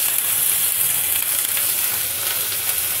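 Ginger garlic paste and green chili fry in hot oil with a loud, steady sizzle and crackling hiss, close and uninterrupted.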